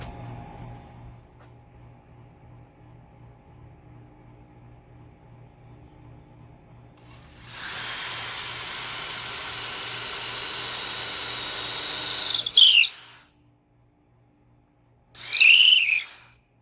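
A power drill bores into the end of a wooden shed framing beam, a steady high whine running for about five seconds after quiet hum, followed by two short bursts.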